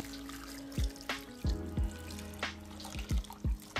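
Broth is poured over food in a home kitchen, a soft trickling stream broken by several small splashes and drips, close by and quiet with no talking.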